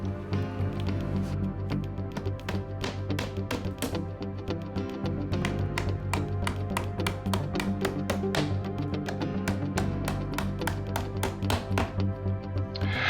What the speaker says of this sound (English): rock the drawer back on the drawer bottom and attach the sides to the drawer back with the nylon bolts included